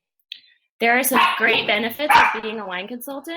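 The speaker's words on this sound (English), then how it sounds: "Sorry about my dogs." Dogs barking in a home, sharp yips and barks mixed in under steady close speech from someone talking about wine consulting.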